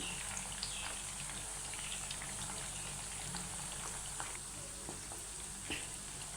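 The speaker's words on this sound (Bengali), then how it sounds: "পেঁয়াজটা ভাজা হয়ে গেছে" Onion frying in a pan for chicken tikka, a faint, low sizzle with scattered soft crackles and pops, steady and quiet throughout.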